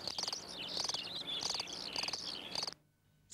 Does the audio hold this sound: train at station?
no